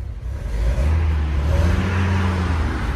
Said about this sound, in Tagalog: Pakinggan nyo ang exhaust niyan.